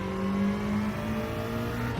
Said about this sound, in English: Oh, man, a rotary engine sounds so good.